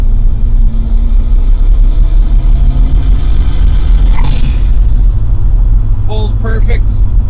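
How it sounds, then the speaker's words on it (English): A car with an XTD clutch, downshifted into third and given some gas, gives a steady close engine drone with road rumble inside the cabin, plus a few brief higher squeaks near the end. "I can shift down into third if I want to, give it a little bit of gas"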